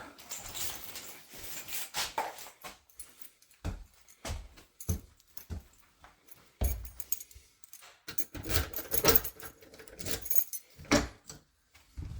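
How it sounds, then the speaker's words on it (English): Keys jangle and clink in irregular bursts with quiet gaps between them, close by, during a carpet and linoleum removal job in a house. No one speaks. "I'll make sure I brought the keys."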